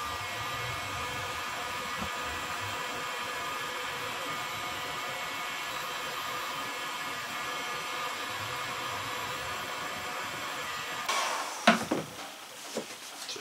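A heat gun blows a steady, even hiss of hot air onto a length of PVC pipe being softened to fit over a vacuum hose, running alone and close, then giving way to a few sharp handling knocks and clatters.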